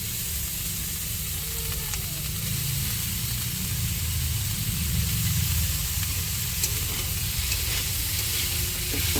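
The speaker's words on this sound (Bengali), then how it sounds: "এখানে ভালো করে নাড়াচাড়া দিয়ে মশলাটা ভালো করে মিশিয়ে দিয়েছি" Boiled banana flower stirred into hot, oily fried spice paste for a prawn dish hisses in a steady, close sizzle lasting several seconds, with occasional stirring scrapes and no speech.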